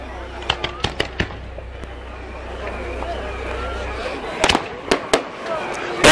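A string of fireworks cracks and booms at irregular intervals, with a quick volley early on and another cluster of louder bangs later, set against crowd babble and a low rumble.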